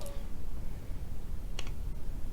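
Dice clatter briefly on a Flames of War tabletop game, a short sharp rattle, near and fairly quiet over a low room hum.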